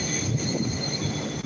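A train passing at a Moscow station platform, a continuous rolling rumble with high metallic wheel squeal tones held throughout, no voices.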